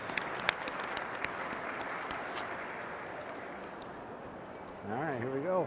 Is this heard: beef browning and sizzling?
no